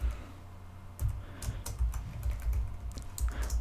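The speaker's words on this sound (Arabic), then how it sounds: "أنا لدي صعوبة في الكتابة لأن الميكروفون بيني وبين لوحة المفاتيح" Typing on a computer keyboard while editing Arabic text in Inkscape, with a microphone set between the typist and the keys; a fairly close, irregular run of clicky keystrokes comes in short bursts with no voices.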